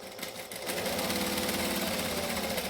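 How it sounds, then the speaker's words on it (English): A sewing machine top stitching the edges of fabric runs at a steady, fast, even hum of needle strokes that starts after a short pause and keeps going without talk. "let's top stitch all the edges. So I'm going to back stitch at both ends."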